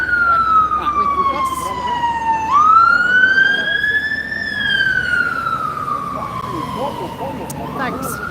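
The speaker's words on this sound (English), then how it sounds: "Here comes a fire engine." A fire engine siren wails loudly past on a London street along the Southbank, sweeping down, rising again and then falling as it goes by over steady traffic noise.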